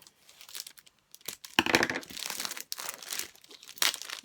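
Packaging crinkles and tears in irregular bursts, with short snips and rustles of taped plastic being cut open with scissors close by, unboxing a diamond painting kit.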